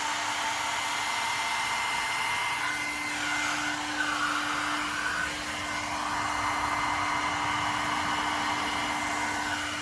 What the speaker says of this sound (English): you don't want to keep going with the blow dryer because you will muddy it.